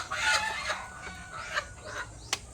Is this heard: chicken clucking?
yes